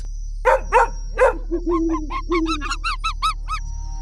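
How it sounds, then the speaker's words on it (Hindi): A dog howls and bays loudly in a series of wailing yelps, close by, building into rapid repeated cries with no talking. "तभी जोर जोर से कुत्ता की रोने की आवाज।"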